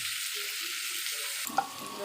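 Vegetables fry in a hot pan with a steady, close sizzle that runs throughout, and a brief clatter near the end as they are stirred.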